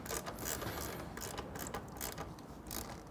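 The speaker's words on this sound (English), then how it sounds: "About a 12mm wrench will tighten that up." A 12mm wrench tightens a footpeg bolt on a Triumph Bonneville motorcycle with faint, continuous ratcheting clicks up close.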